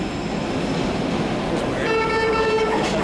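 A BART commuter train rolls into an outdoor station on a rainy day, a loud continuous rumble and rail roar, with squealing brake tones rising near the end.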